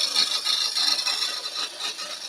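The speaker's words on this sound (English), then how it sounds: "But if you start on the bevel, bring the cutting edge in, start the cut, that's an actual cut you're getting there." A wood lathe tool cuts ripple olive ash side grain on the bevel, a steady hissing scrape with slight rhythmic pulses, close and alone without talk.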